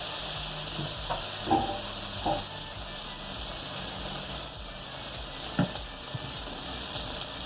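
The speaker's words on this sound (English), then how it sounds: "In my oil, you have to fry up your saltfish first." Saltfish frying in oil in a wok, a steady low sizzle throughout with a few soft clinks and stirring knocks near the start and again later, no voices.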